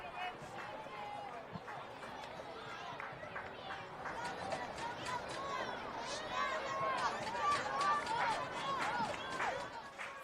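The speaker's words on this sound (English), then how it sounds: "Crowd making some noise" A baseball crowd at a Norwich Sea Unicorns versus Worcester Bravehearts game in the ninth inning sends up a steady murmur and rising cheers and whistles, moderately distant, beneath a commentator's voice.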